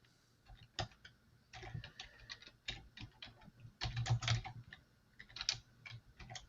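Computer keyboard typing, quiet and close, comes in irregular bursts of clicky keystrokes with short pauses between runs and no talk.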